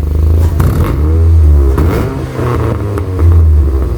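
A 2006 Saturn Ion Redline engine with upgraded exhaust, baffle closed, revs up several times in short bursts, rising and falling over a throaty idle, close by and loud.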